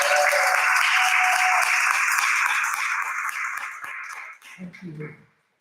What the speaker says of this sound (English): Please give him a warm round of applause, Faray.